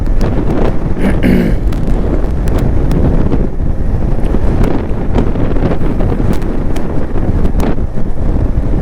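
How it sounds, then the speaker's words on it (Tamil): Strong, steady wind roars and buffets the microphone throughout, a constant loud rush with occasional gusty bursts and no voices. "பார்த்தா காற்று அந்த அடி அடிக்குது"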